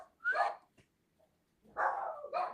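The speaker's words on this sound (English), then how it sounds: "Well, they're barking." A dog gives two short, faint barks with a brief yip between them, heard at a distance with quiet gaps and no talking.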